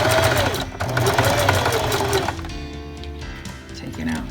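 A sewing machine runs a slow straight stitch along a seam of newborn baby pants, a close, steady whirring hum lasting about two seconds before it stops. A voice talks over the machine and continues after it quiets.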